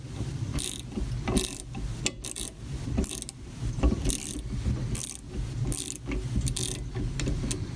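A ratchet tightens parts on a Walker Turner drill press motor during restoration, giving repeated clicking strokes in a steady back-and-forth rhythm, close and alone.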